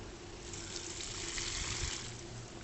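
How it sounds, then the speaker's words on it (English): Water poured from a container onto potted plants in an outdoor garden in Arizona, a steady close trickle and splash lasting the whole moment without talk. "And I'm going to water these guys."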